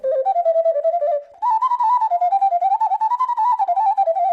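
A Ukrainian zozulka whistle flute plays a bright, warbling birdlike melody imitating birdsong, close and loud, with a short pause before a longer trilling phrase.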